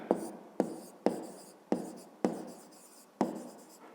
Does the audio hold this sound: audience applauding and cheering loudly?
no